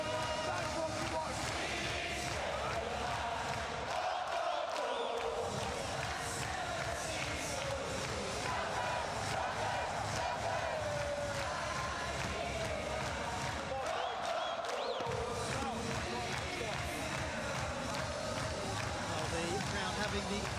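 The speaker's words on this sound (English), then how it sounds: "The crowd having the absolute time of their lives." A lively crowd at an Invictus Games sports match cheers and shouts continuously, a loud, busy roar with voices and rhythmic chanting running throughout, briefly dipping twice before surging back.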